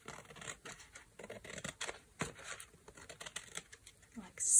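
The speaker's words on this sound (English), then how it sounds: "Cut off this end." Scissors snip through old road map paper in quick, light cuts, a steady run of crisp slicing close by with faint voice sounds in the background.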